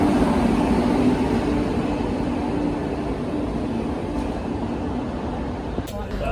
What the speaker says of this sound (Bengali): নটা তিরিশে পথিক এক্সপ্রেস প্ল্যাটফর্ম নাম্বার ওয়ানে চলে আসলো